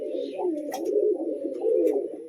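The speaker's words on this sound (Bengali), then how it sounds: "পায়রার ডাক বেশি শুনতে পারেন" Pigeons coo in a loft in a low, throaty, rolling murmur that carries on unbroken and close by, with a couple of faint higher chirps above it.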